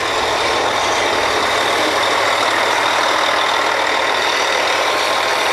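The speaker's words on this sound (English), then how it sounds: "This is a mud pump" Mud pump running on a drilling rig, a loud, steady mechanical roar and clatter that holds level for the whole stretch, with no voices over it.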